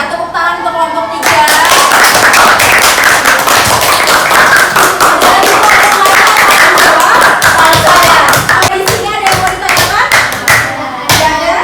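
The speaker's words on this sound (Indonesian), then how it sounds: "tepuk tangan untuk kelompok 3" Primary-school classroom clapping for a student group during a lesson: after a brief voice, loud, close, energetic claps from many children burst in and continue rapidly, with some rhythmic tapping mixed in.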